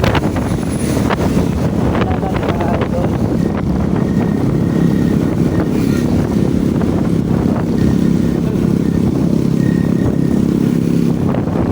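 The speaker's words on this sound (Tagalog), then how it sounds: "Maririnig nyo na guys. Big bike." A big bike motorcycle passes close by on a rainy ride home, its engine roar rising and falling under steady wind buffeting the microphone.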